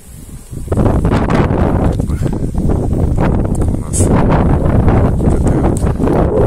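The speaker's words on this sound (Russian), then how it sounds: "ну, ветер, сегодня ветрено." Gusty wind at a beekeeper's apiary on a warm late-March day buffets the microphone with a loud, close, rumbling roar that rises after a quieter start and keeps going.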